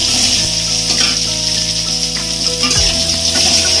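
Cardamom, black pepper, cinnamon and cloves fry in hot oil with a loud, continuous close-up sizzle and hiss and faint stirring, and no talk.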